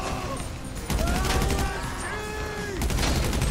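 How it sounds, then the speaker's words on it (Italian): Enemy Uzi fire rattles in an Italian third-person shooter, sharp bursts that come and go with a few ringing, whistling tones over gritty combat noise, fairly close and loud, with no talking. "di nemici ce ne sono e sparano come assassini"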